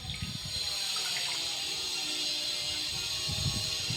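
Curry leaves being washed under water, a steady close stream of running and splashing water that continues throughout without talk.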